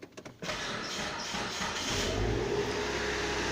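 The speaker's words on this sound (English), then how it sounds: "I'm going to start the car and let you listen for yourself." A 2004 Hyundai Santa Fe four-cylinder engine cranks briefly and catches, then settles into a steady, close idle that rises slightly in level, with no voices.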